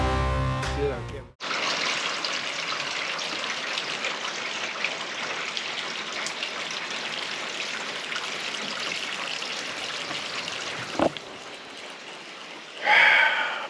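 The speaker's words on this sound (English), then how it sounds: "Well, it's turkey season, and she is pouring rain." Pouring rain drums steadily on a cover during an Ohio turkey-season morning, a constant hiss heard close up for most of the stretch with no talk over it, ending in a brief louder rustle.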